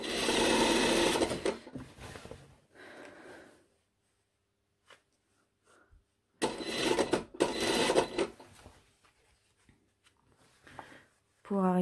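A sewing machine stitches a jacket collar seam, running in two loud sustained bursts separated by quiet pauses, with brief faint handling noises between.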